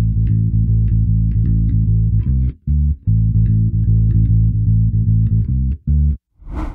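Electric bass plays a riff with the last two notes of each phrase cut short, which leaves brief gaps between repeats; loud and close, no talk.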